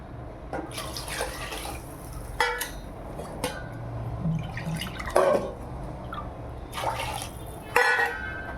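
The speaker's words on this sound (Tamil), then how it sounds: "தண்ணி ஊற்றுங்க" Water splashes and trickles into a vessel in uneven bursts, with drips and sloshing, close by and fairly loud, no talking.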